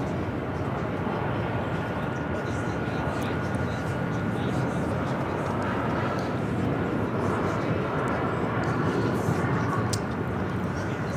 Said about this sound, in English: we got the Speedbird A380 Super heading up for a north side at takeoff